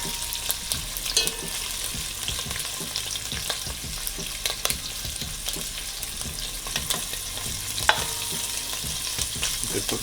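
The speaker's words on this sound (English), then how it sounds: "I don't need to fry it too much" Jamaican fried dumplings sizzle loudly in hot oil in a pan, a dense continuous crackle with scattered sharper pops and spoon knocks, close and without talk.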